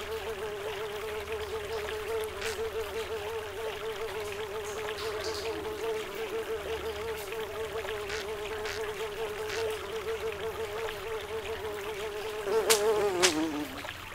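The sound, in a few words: fly buzzing in a video game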